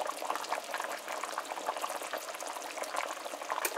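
Duck curry with whole peppers simmers in a pot at home, a steady close bubbling and sputtering that fills the moment without any talk.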